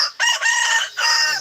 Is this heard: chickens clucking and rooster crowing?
yes